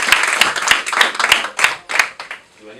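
Students applaud a group after a talk on cyberbullying and suicide, a burst of sharp, rhythmic clapping that stays loud and steady for a few seconds before thinning out.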